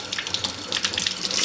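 A faucet pours water continuously as a makeup sponge is rinsed beneath it, producing a close, steady hiss with irregular splashing.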